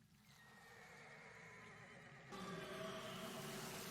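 Horses neigh and whinny in a dramatic screen scene, a faint sustained whinny that swells louder partway through alongside soft hoof clip-clop.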